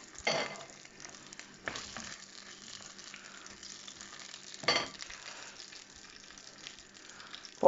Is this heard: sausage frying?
yes